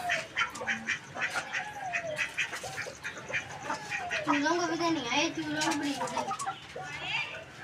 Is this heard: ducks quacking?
yes